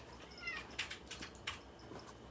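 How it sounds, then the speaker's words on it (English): Cats fighting indoors, heard as faint, brief yowls and hisses in short bursts at a distance, over a quiet room. "The cats are fighting."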